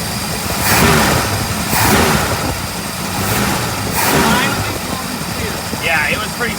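A 1964.5 Ford Mustang convertible engine runs on its own fuel after its gummed-up carburetor was cleaned, a rough loud idle that surges in regular revs every second or so, up close with speech in the background.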